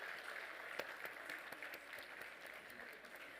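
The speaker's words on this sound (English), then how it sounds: "can we have a round of applause for that dance?" Steady applause from a banquet audience after a dance performance, a dense even patter of many hands clapping throughout, moderately distant with no clear voices over it.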